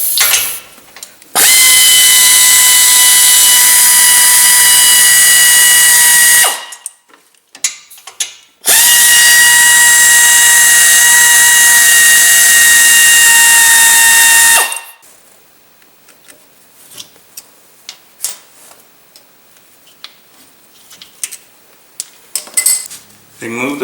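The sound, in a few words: removing brake caliper bolts on a 2007 VW Jetta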